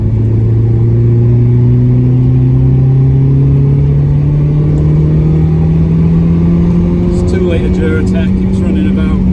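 A Ford Mondeo engine runs steadily from inside the car, a loud droning hum whose pitch rises slowly as it pulls, filling the whole stretch without a break.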